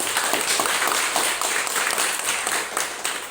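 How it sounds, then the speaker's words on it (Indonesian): Students in a junior secondary math classroom break into applause, a busy wash of many hands clapping at once that stays fairly loud and constant, swelling slightly near the end, with no talk over it. "Oke, tepuk tangan buat saya."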